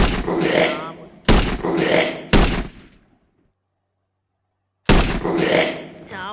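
Gunfire from a zombie-shooting video game: three loud, dense bursts in quick succession, a clear gap of silence, then a fourth burst. A voice may talk over the shots.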